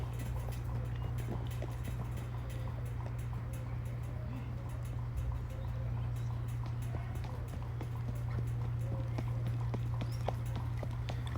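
Horses' hooves clip-clop steadily on a long outdoor ride after training, a continuous rhythmic patter under a constant low rumble of background noise.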